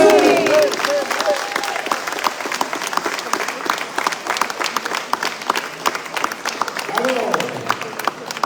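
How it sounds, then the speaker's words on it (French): A crowd at a prize-giving for a junior cycling tour in Martinique claps in a dense, loud burst of applause that tapers slightly, with voices calling and cheering at the start and again near the end. "je vous demande à tous de faire une belle acclamation pour la jeunesse dans sa globalité"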